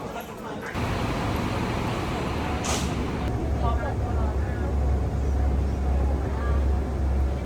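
Airport shuttle bus running in place of the terminal train, heard as a steady low engine rumble with a brief hissing burst like an air brake, mixed with general vehicle noise throughout.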